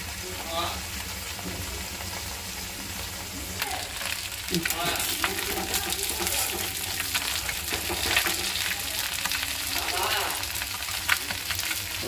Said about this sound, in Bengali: মাছগুলো ভেজে নিব আমি।